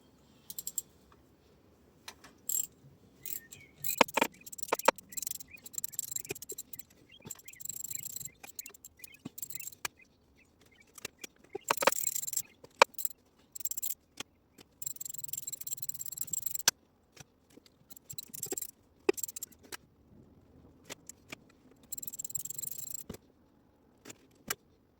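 Bolts and a PTO cover coming off an engine during a Roamerdrive install: irregular metallic clicks, ratcheting and small clanks in scattered bursts, close and moderately loud with quiet gaps between.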